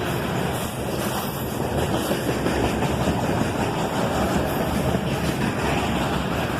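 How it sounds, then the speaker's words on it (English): A CSX freight train led by an SD43 square-cab rebuild, originally an SD40-2 built for the Louisville and Nashville, rolls past with an ES40DC trailing. It is a loud, steady, close rumble of wheels and cars that never lets up, with no voices. "an SD43 square cab rebuild leads the train"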